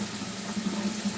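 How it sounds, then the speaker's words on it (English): Cold water running from a household tap into a sink, a steady close hiss and splash with an even, unbroken flow and no voices. "Let's put just a touch more, just a little bit of cold water"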